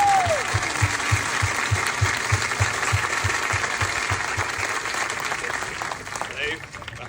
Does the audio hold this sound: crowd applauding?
yes